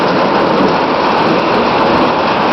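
Hailstones and heavy rain pelt down in a dense, loud, unbroken roar outdoors, a steady clattering wash with no pauses.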